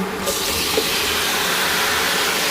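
Chopped tomatoes hitting a hot pan with ginger, a sudden loud sizzle that settles into a steady close hiss of frying.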